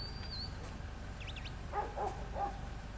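Working dogs herding sheep on a New Zealand farm give a few short yips and whimpers over a low, steady outdoor rumble.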